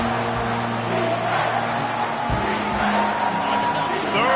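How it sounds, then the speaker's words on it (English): Packed football stadium crowd roaring on a third down, a loud, continuous wall of noise with no break. A commentator's voice sits in the mix. "3rd down, and this crowd is tearing the lid off this place."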